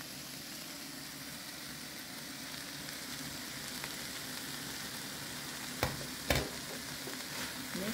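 Carrot, cabbage and green onion stir-fry in a hot wok with a steady, soft sizzle, punctuated near the end by two sharp spatula strikes against the wok.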